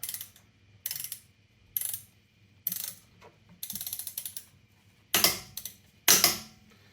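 Ratchet cranking down the wheel bolts on a Chevy Bolt EV, several short bursts of rapid metallic clicking separated by pauses, close up, with the last two bursts louder and sharper.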